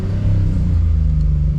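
A Toyota Supra fitted with individual throttle bodies, naturally aspirated, held at steady high revs for a trackside noise test at Oulton Park; a loud, continuous low rumble and drone with no voices.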